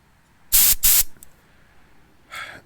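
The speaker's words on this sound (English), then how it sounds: "compressed air." Two loud back-to-back bursts of compressed air blast brake dust off the rear wheel of a 2018-or-later Honda Goldwing motorcycle, followed by a shorter, softer puff about two seconds later.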